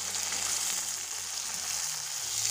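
Peas and tomato frying together in a pan, a dense, even high-pitched sizzle close by with soft stirring underneath, steady throughout and without speech.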